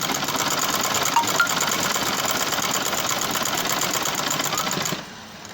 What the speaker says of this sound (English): Pedal your machine and direct it where to sew